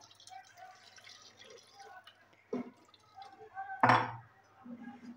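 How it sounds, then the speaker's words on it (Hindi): Water poured into a pot of potatoes being cooked for Kolkata-style chicken biryani, a short splashing pour rising midway and ending with a louder burst, heard alongside a person talking. "इसमें हम डालेंगे फ्रेंड्स पानी"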